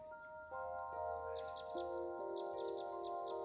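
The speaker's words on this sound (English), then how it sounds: "And the sound of the birds." Birds sing in the Cascade Mountains of Washington State beside a hidden hot spring, faint repeated chirps against a steady sustained tone in an otherwise quiet scene.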